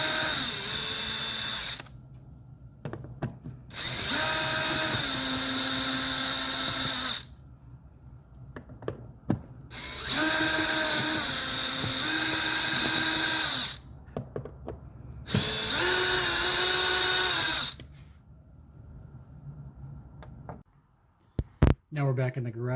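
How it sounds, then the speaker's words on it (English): A power drill backs out the four screws fastening a window operator into a wooden window casing, running in three long, loud whirring bursts separated by short pauses, with a brief click near the end. "we're going to remove the 4 screws holding the window operator into the window casing."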